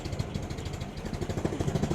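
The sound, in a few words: Land Rover Series 2a engine idling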